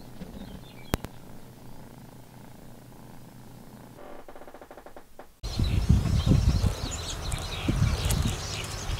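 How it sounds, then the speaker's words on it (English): Four young kittens at a mountain home are heard with a steady, close purr, joined later by louder rustling and scuffling as they play. Brief clicks sound near the start. "there's a few more clips here of all four kittens playing with each other"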